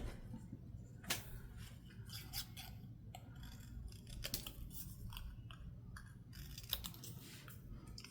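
Scissors trim paper for a handmade sticker roll, giving faint, close snips and crisp cuts at an irregular pace over a low background hum.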